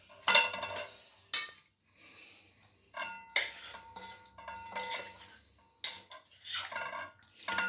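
Large chicken pieces go into a biryani pot over a layer of rice with whole garam masala and bay leaves, making a string of close metallic clanks, scrapes and clinks of a spoon against the pot, spaced irregularly.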